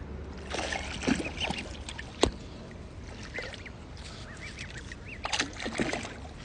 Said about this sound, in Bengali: ওটা হচ্ছে ছোট হাঁস, আর এটা হচ্ছে চীনা হাঁস।